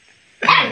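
Playful puppy lets out a single sharp, close bark after a moment of near silence in a rural home setting.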